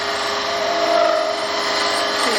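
A pen blank spins on a wood lathe while a negative rake tool shaves it, giving a continuous, close, steady whirring scrape with a faint tonal hum and no talking.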